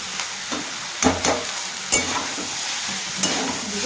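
Flattened rice stir-fried with tomato and peas in a pan sizzles steadily up close, with several distinct scraping stir strokes knocking against the pan at intervals.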